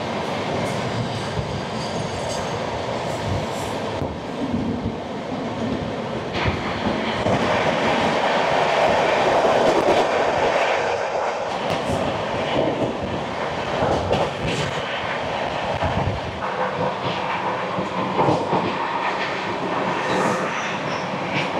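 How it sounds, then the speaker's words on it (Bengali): The Bhopal–Santragachi Humsafar Express runs steadily near Jamshedpur, a continuous rumble and wheel roar that swells and eases over about twenty seconds, heard from on board with no voices. "আমাদের ট্রেন প্রায় পৌঁছে গেছে জামশেদপুর"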